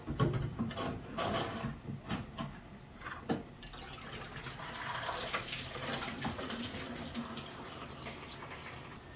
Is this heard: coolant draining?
yes